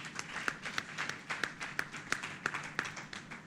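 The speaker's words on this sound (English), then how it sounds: "Please, once again, give her a round of applause." Sparse, steady clapping from a small group at an entrepreneurs conference and trade expo, sharp separate claps in an uneven rhythm, fairly faint and distant in the room.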